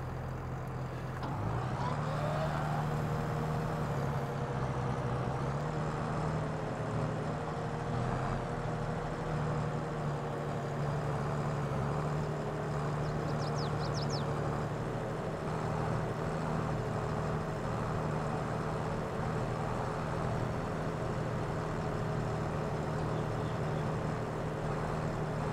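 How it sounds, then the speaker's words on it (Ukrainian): A tractor engine idles and runs in the video game Farming Simulator 22, a steady low droning hum with a faint rise in revs early on, continuing evenly and alone. "От оцей такий вертлявіший тракторець, мені подобається, щось якраз от середнє."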